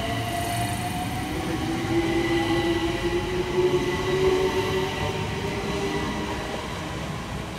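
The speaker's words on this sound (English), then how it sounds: "we see the departure of 378207, working the 1425 London Overground service from Clapham Junction through to Stratford." London Overground class 378 electric train departing Imperial Wharf station on a service from Clapham Junction to Stratford, a steady loud rumble with a rising wheel squeal and motor tone as it pulls away nearby.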